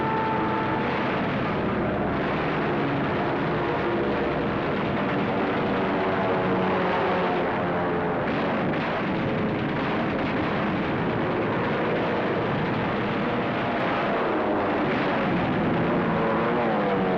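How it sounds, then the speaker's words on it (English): US Navy dive bombers hurtling down on the Japanese carriers at the Battle of Midway in the Second World War, a dense continuous roar of aircraft engines with rumbling blasts mixed in, loud and sustained throughout. "50 United States dive bombers were hurtling in from the sky"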